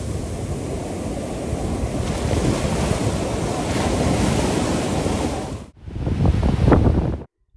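Ocean waves roll and crash continuously on Pondicherry beach, a loud, broad wash of surf with wind buffeting the microphone, briefly dropping out before another surge breaks close by.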